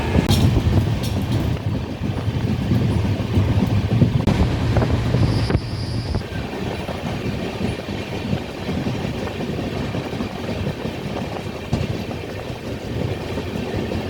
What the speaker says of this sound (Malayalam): നമ്മുടെ വണ്ടി പുറപ്പെടുകയാണ്.